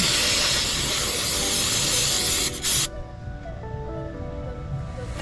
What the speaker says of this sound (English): Give it a little cleanup with some brake parts cleaner.